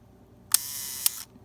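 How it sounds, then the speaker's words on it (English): A Rollei 35 camera's shutter fires: a sharp click as it opens, a steady mechanical whir for about half a second, then a second click as it closes, close and quiet. "That's the shutter opening and closing."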